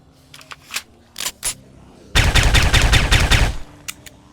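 Gunfire in the zombie survival game Project Zomboid: a few scattered single shots, then a dense, loud burst of rapid automatic fire lasting over a second, followed by a couple of isolated trailing shots.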